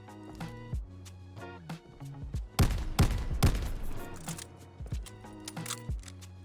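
An Einhorn Revolving shotgun fires in Call of Duty: Vanguard, a cluster of loud, booming blasts in the middle of the passage, set against tonal game music before and after.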